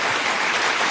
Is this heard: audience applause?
yes